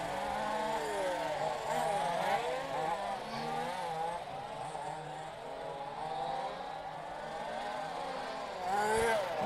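Several rallycross race cars run around a 305-meter track, their engines droning and shifting pitch as they pass, with a steady roar and a voice speaking over it.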